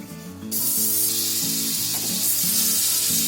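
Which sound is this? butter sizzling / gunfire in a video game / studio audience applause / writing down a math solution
butter sizzling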